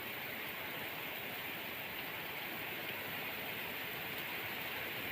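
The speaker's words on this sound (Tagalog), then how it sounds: "Pagka umuulan na ganyan" Heavy rain pouring down with wind in the Philippines, a dense, steady roar of water on surfaces that stays constant and loud, with no talking.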